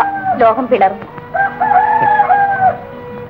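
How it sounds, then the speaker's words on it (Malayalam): A rooster crows in a loud, drawn-out call heard close, following brief voiced sounds, in an old black-and-white Malayalam film scene; a voice speaks briefly near the start. "കോഴി കൂവുന്നു."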